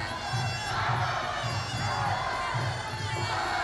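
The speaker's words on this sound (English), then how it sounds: "the hometown crowd of Thailand, cheering every strike that Thailand lands" A hometown Thai crowd at a Muay Thai final of the 2018 FISU World University Championship roars steadily, a dense wash of cheering and shouting voices that holds at a constant, loud level throughout.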